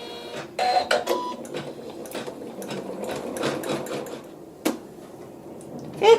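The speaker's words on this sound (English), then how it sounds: "step 1 is just to sew the placement stitch onto the cutaway stabilizer with the wash away thread." An embroidery machine sews a placement stitch onto cutaway stabilizer with wash-away thread, a close, steady mechanical whir of rapid stitching with a few sharper clicks and small surges.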